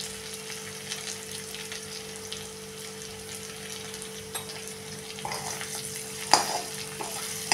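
Bitter gourd curry with jaggery and goda masala fries in a pan, a soft steady sizzle with occasional stirring scrapes and a sharper clink near the end.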